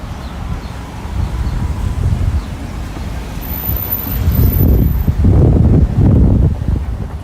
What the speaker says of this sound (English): As we battle the wind, heading towards Ossington.